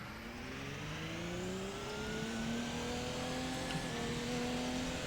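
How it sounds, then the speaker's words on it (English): LMP prototype race car in Assetto Corsa, engine droning steadily with rising whining pitch as it accelerates through the gears, loud and continuous with no talk. "Have you noticed how these LMP cars sound a bit like a washing machine?"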